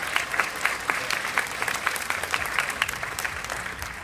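An audience at a hairdressing symposium claps in a dense, even round of applause, many hands close together, steady for a few seconds with no distinct voices above it.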